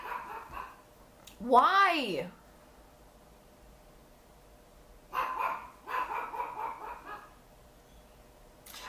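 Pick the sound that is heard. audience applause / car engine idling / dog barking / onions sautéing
dog barking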